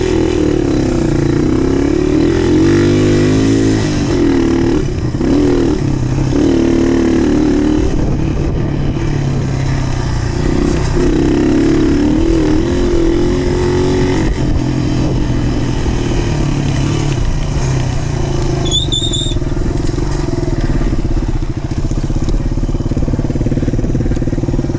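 Motorcycle ridden along a rutted dirt trail at Pinnacles, California, its engine droning steadily and loudly throughout with revving swells, close to the mic.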